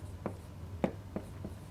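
Chalk tapping and scratching on a board in a lecture room: a few short, faint strokes spaced irregularly over a low steady room hum, no talking.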